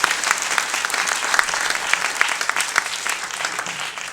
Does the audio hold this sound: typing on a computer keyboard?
no